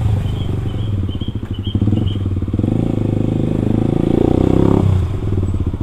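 A Kawasaki KLX 250 supermoto motorcycle ridden hard over a damaged, rough road, its engine droning loud and close with a rapid pulsing note, rising briefly as the throttle opens, with rattling from the bumpy surface.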